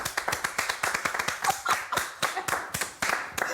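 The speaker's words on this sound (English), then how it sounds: "Congratulations, a round of applause." Quick, bright hand claps ring out in a steady run for a contest winner, close and fairly loud, from a small group rather than a large crowd, with no talking over them.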